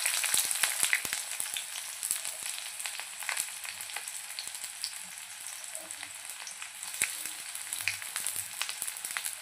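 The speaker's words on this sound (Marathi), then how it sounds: "मसाले छान होत आले त्यावरती कांदा ॲड करूया" Onion sizzles in spiced masala for a village-style mutton curry, a continuous crisp frying crackle with sharp pops scattered throughout, heard close and alone.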